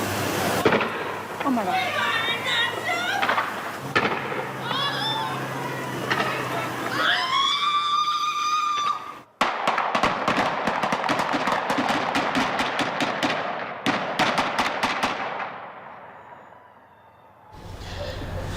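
Gunfire erupts during a police standoff at a home on Fulton Street in Toledo: a rapid volley of sharp, loud cracks, some in quick clusters, after earlier voices and commotion, with a person exclaiming amid the shots.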